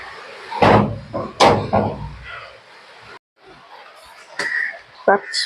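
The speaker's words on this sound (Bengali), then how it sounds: "সিঁড়ি ঘরে দরজাটা আটকে দিই।" A stairwell door is shut on a rainy day with two loud, close bangs in quick succession, followed by quieter knocks and rattles, with some faint voices nearby.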